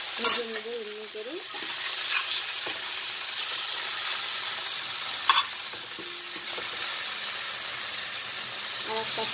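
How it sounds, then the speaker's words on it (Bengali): Surmai (kingfish) pieces frying in oil in a pan, a steady close sizzle throughout with occasional utensil clinks and a brief faint voice. "সুরমাই এত ভালো মাছ, আরামসে ভাজা হয়ে যায়। আর সব কটা আমি ভেজে নেব এমনি করে।"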